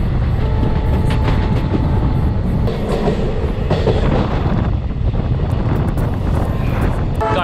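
Steady rumble and rattle of an Indian overnight train running on rails, loud and close with continuous clatter and wind buffeting throughout, no voices.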